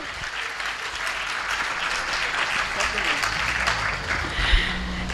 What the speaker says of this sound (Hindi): एक बार जोरदार तालियों से अभिनंदन करें भाई